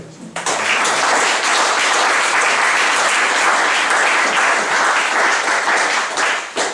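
A church congregation applauds to acclaim the Lord, loud sustained clapping from a large crowd that swells quickly and then keeps a steady roar.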